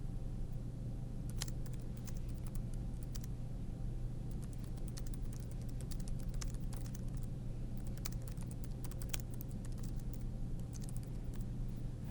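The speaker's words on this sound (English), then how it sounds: "And now if I keep typing it," Quiet, steady typing on a computer keyboard, with irregular bursts of light key clicks running throughout and no voices.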